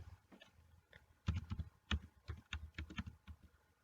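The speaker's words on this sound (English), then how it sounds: "Now there two you have to type your name." Keys clacking on a computer keyboard as a name is typed, in quick irregular bursts of clicks, close and fairly quiet, with no talking.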